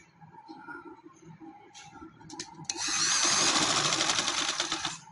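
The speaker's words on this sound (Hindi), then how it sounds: "ये आप मैंने सिलाई शुरू की है," A sewing machine stitches black fabric for a summer frock. Quiet handling clicks come first, then a close, steady rapid whirr of stitching that lasts about two seconds.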